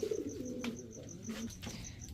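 Indian high-flyer pigeons coo softly at close range, a few low throaty calls rolling one after another in a quiet space.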